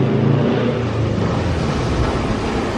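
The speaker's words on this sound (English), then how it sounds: "I love Subaru sounds." A Subaru car engine rumbling and revving steadily at close range, a continuous low growl that holds throughout with no voices.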